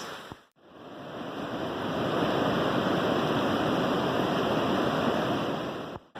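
Steady, full rush of a river flowing beside a Sierra hiking trail, a broad continuous roar that fills the clip with only brief dips at the start and end.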